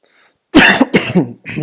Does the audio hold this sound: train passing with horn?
no